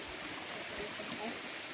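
A flowing stream near a treehouse in Marilog District, Davao City, rushes as a steady, broad wash of water, with a voice talking over it.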